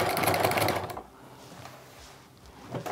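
A sewing machine zigzag-stitches the binding edge of a jelly-roll fabric rug in a loud, rapid burst of about a second, then quiets to faint handling sounds before a short rumble at the end.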